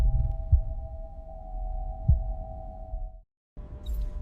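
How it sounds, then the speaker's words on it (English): Heartbeat sound effect with two deep, soft thumps spaced well apart over a steady electronic hum, which cuts out briefly before returning. "Each signal matched a biological rhythm, a heartbeat."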